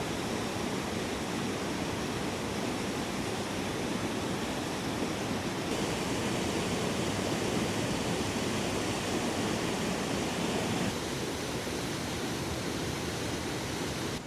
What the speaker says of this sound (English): That is a really beautiful waterfall